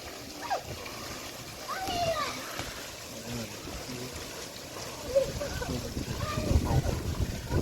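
Water fills a container until it tips and spills, splashing and gushing out in irregular bursts that grow heavier toward the end, while children's voices chatter and call around it.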